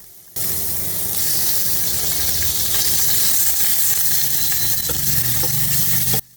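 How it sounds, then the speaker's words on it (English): Chopped pork frying in a little cooking oil in a cramped Vietnamese home kitchen, giving a loud, steady, hissing sizzle that holds unbroken for about six seconds with no voices. "Add a little cooking oil and fry the chopped pork until the fat renders out."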